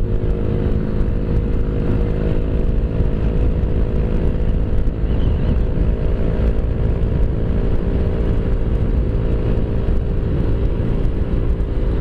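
Steady road traffic near a highway, a constant loud rumble of engines and tyres with motorcycle and car sounds blending into a continuous drone throughout.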